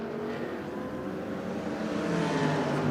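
Grove Racing's Porsche race car at the Dubai 24 Hour endurance race, a steady loud engine drone with a broad roar that builds slightly toward the end, continuous with no talk.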